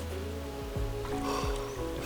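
Canoe paddle strokes dipping and pulling through calm, clear water in a tranquil cove, a few soft splashing swishes repeating about every second and a half close by, with gentle water movement between strokes.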